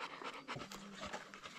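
Nala, a park mascot dog, pants in quick rhythmic breaths close by on a very hot day, a steady run of short huffs with no talking.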